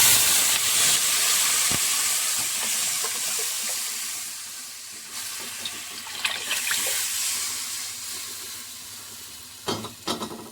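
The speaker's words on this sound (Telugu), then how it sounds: "ఇప్పుడైతే మనం ముందుగా ప్రిపేర్ చేసుకున్న చింతపండు రసాన్ని అయితే ఇందులో వేసేస్తాను." Tamarind juice poured into a pot during village-style ulavacharu (horse gram soup) cooking, a steady watery splashing and hiss that tapers off, with a few clinks near the end.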